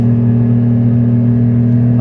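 Gas Chevrolet 2500HD truck with the L8T engine towing a 5th wheel trailer, a steady, loud low engine hum with strong tonal drone and road rumble, continuous and without speech.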